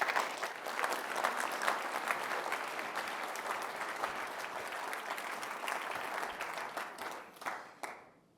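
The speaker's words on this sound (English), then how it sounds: "ladies and gentlemen, a round of applause for Bob Langert" A conference audience at the Racing Foundation Conference 2024 applauds Bob Langert, a dense, sustained wash of clapping that holds steady and then tapers off near the end.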